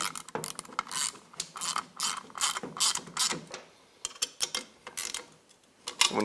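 A hand ratchet clicks in quick bursts as it drives a regular 10 mm bolt with a split washer through a ground plate on a Kawasaki Mule, close and crisp, with short pauses between strokes.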